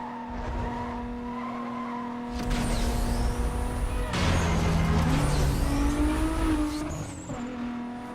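Car skidding after a handbrake pull in Need for Speed: Most Wanted (2005): a steady engine drone gives way to a long, loud tire screech and rough scraping as the car slides, with the engine revving underneath and no talking.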